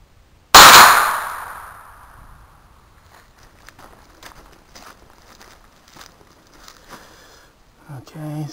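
Hi-Point 995 carbine firing a truncated-cone bullet at a target about 75 feet away, a single sharp loud report that rings and decays over a second or two, followed by quiet handling noises and a brief voice.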